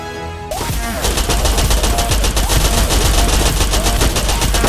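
Rapid automatic gunfire in a video game, a loud, dense, continuous burst of shots that starts abruptly and keeps hammering to the end.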